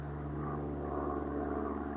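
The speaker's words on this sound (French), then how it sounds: "Puis il y a aussi un hélicoptère qui passe juste au-dessus." A helicopter passes overhead in a mountain desert valley, a steady low rotor thump and engine drone with no talk, fairly faint and continuous throughout.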